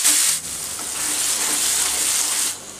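Whole spices, including cinnamon, roast in hot oil with a steady, close frying hiss that dips briefly near the start and softens slightly at the end, with no voices present.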